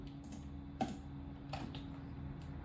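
Computer keyboard keys click sparsely and quietly, a few isolated taps including the Shift key, with steady low background hum and no talk, as someone selects items one by one in Figma.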